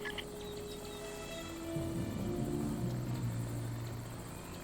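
An enemy helicopter droning in SOCOM US Navy Seals II, a steady rotor hum that swells louder midway as it approaches, with wavering engine tones over faint ambient game sounds.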